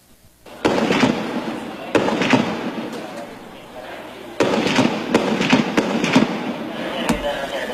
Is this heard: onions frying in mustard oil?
no